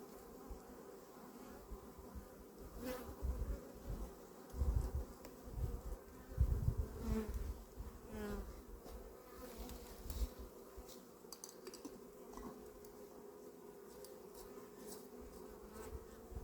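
Honeybees buzz steadily around a hive entrance as foragers come in carrying pollen, a dense continuous drone with individual bees swelling louder as they pass close, with no talking.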